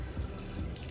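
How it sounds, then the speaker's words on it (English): Lemon juice squeezed into a pancake batter bowl, giving two short, soft wet spurts close by with no talk over them. "Now we're gonna put some lemon juice. Just like 2 squeezes."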